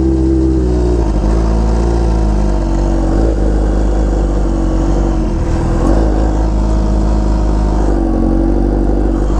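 A Kawasaki Ninja H2R motorcycle rides among supercars, its engine holding a loud, continuous drone with road and wind rumble, the pitch shifting slightly as the throttle changes.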